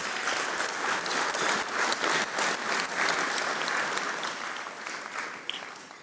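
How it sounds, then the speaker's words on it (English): An audience at a celebrity sports night awards event gives a round of applause, many hands clapping in a dense patter with some distinct nearby claps, steady for several seconds and easing off at the close. "Round of applause for all those folks."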